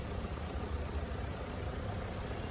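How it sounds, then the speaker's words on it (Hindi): A Mercedes-Benz E220d's OM 654 all-aluminium four-cylinder diesel idles steadily at low volume, a faint, even rumble with a slight ticking texture throughout, no voices present. "ये मर्सिडीज बेंज का पहला all aluminium 4 cylinder diesel engine है।"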